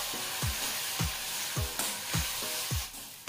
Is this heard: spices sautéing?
yes